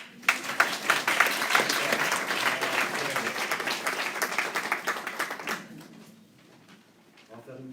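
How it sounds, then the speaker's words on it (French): At a conference, an audience claps in a dense burst of applause that fades after about five seconds, leaving a few scattered claps at the end. "Alors on applaudit."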